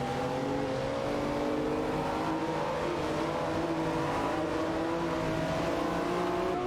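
Lamborghini Diablo GTR race cars in a racing video game, engines droning steadily at high revs with shifting pitch as the cars race closely together, continuous and loud throughout.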